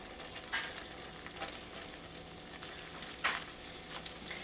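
A light roux of fat and flour for broccoli cheddar soup cooks in a pan with a soft, steady sizzle, and a couple of sharper scrapes come as it is stirred.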